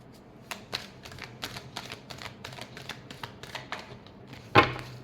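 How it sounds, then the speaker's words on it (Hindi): Tarot cards being shuffled by hand, a string of quick, light riffling taps at a loose, uneven rhythm, close and fairly soft, ending with a sharper knock. "last shuffle"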